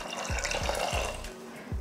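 Water poured into a pressure cooker holding soaked lobia (black-eyed peas), a close splashing and filling sound with several short, repeated pulses of pouring.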